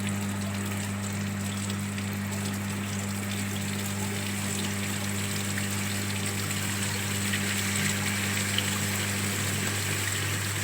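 Steady water jet from a lab impact-of-jet rig striking a surface, a continuous rushing flow mixed with a constant low pump hum, even and unbroken throughout.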